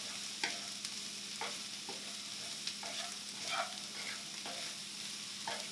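Sweet potatoes, onions and fresh rosemary fry quietly in a pan, giving a soft continuous sizzle broken by occasional light scrapes and stirring clicks.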